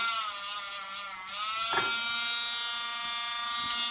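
A rotary tool with a wool felt polishing tip buffing copper wire, a close, high, steady motor whine that dips and shifts in pitch as the piece is pressed against the tip.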